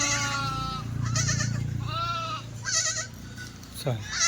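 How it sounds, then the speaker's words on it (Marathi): Several Kathiawari sheep and lambs bleat close by, overlapping wavering cries one after another, with a low steady hum underneath. "बरोबर मित्रांनो एक नंबर कोकरे आहेत"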